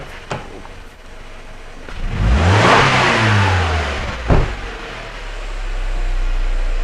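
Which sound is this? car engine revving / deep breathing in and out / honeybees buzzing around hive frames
car engine revving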